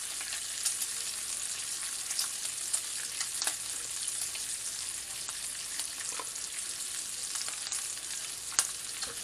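Bacon sizzles steadily in a pan, a constant crackling hiss with scattered sharp pops throughout, close and even in level, with no talking.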